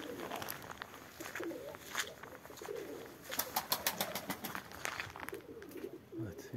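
Young pigeons flying as a flock outdoors, cooing and rustling with soft flutters and scattered bird calls over a faint background.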